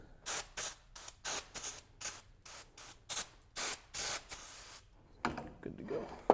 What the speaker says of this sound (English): we're going to go ahead and hit them with some brake clean.